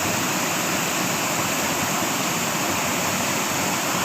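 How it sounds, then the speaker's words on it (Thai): Steady, dense rush of a natural waterfall fills the whole clip, a constant broadband roar with no pauses or voices. "อาจจะเป็นน้ำตก"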